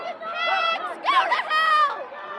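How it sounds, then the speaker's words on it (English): Protest crowd outside a governor's mansion chanting "let her go" in rhythmic repeated phrases, loud and close, voices layered in a dense group chant. "you can hear the crowd chanting, let her go, let her go."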